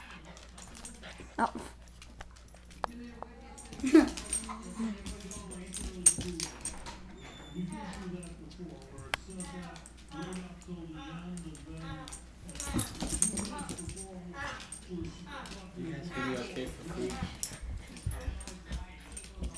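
A Siberian Husky puppy and a wire fox terrier whimper and yip in short, high, repeated bursts, nearby and fairly faint, while people talk quietly over them.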